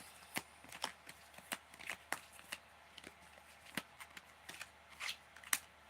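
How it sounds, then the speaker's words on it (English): Tarot cards are shuffled close up in a quiet room, a rapid series of crisp riffling snaps and soft slaps repeating irregularly throughout, with no talking. "That was a lot of shuffling to get the card right back."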